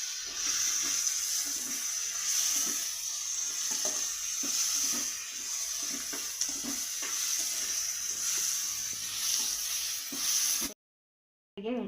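Hot oil sizzles steadily as mustard seeds, chana dal, urad dal, dried red chillies, curry leaves and a pinch of asafoetida temper in it, a continuous close crackle with faint stirring ticks, ending in a sudden cut to silence.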